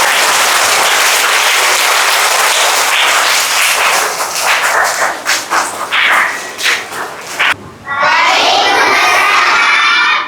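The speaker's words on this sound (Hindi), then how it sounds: "उनका पुरजोर तालियों से खैर मक़दम किया" A crowd, children among them, greets Hina Teacher with loud applause at an Independence Day school program, the clapping thinning into scattered claps before a brief break and a renewed burst.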